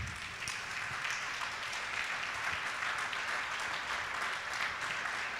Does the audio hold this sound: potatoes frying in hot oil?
no